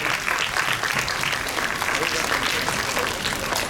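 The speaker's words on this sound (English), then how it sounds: "Let's give a huge round of applause for them." An audience at a primary school poetry and storytelling event claps in sustained, dense applause, loud and close, with voices mixed in.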